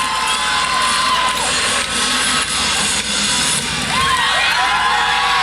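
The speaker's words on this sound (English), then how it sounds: "The crowd goes wild" A gymnastics meet crowd, Air Force vs Clemson women's teams, erupts in loud sustained cheering, shouting and screaming after a floor routine landing, with high-pitched voices and whistles swelling through the whole stretch.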